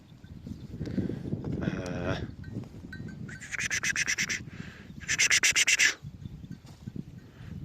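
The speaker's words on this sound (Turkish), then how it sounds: "Bizim koyunlar da oradadır." Several sheep bleat in short, buzzy bursts, loud and close, mixed with low murmuring voices and outdoor background noise.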